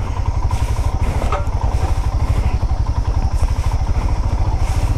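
A Royal Enfield Himalayan motorcycle rolls downhill off-road over pebbles and slush under engine braking, its engine giving a loud, steady, rapid thumping pulse with rattling clatter throughout.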